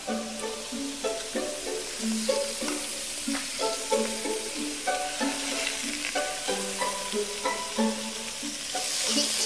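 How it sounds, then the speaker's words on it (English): Pieces of pheasant sizzle in a little oil in a hot pan, a steady frying hiss with repeated tonal scrapes and clinks as the meat is stirred and turned. "Expect to sizzle, because I've got this pan hot."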